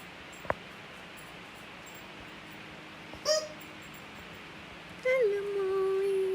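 Dog playing with a squeaky toy early in the morning at Big Pine Key, Florida: a quiet room with soft background hiss, a sharp tap, then a couple of brief high squeaks, the last one drawn out.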